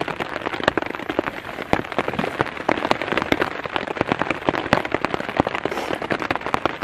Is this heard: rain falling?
yes